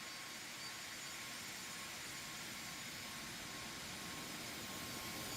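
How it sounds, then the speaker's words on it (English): Steady, even whine and roar of an Embraer Phenom 300 light private jet's engines in a flight simulator game, a continuous broadband hum held at an unchanging level throughout. "I've seen some private jets from up close like this, and it kind of sounds like that"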